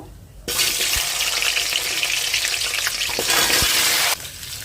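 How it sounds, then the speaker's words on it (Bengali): Taro (kochu) pieces fry in hot oil in a kadai wok, with a loud, close sizzle that bursts in suddenly, holds for about three and a half seconds with a few stirring clicks, then cuts off. "কচুগুলোকে ভেজে নেব"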